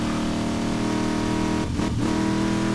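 A Dodge SRT Challenger engine drones steadily and close-up while driving, with a brief dip and surge in the rumble partway through.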